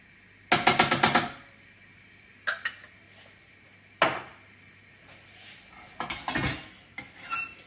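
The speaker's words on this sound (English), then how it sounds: "Just give that a mix. Okay, give that a mix round." A spoon clinks and scrapes against a pan while mustard is stirred into a Welsh rarebit mixture, in several short clattering bursts separated by quiet gaps.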